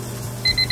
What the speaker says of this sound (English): The timer went off, so now we have to take our ground beef out again.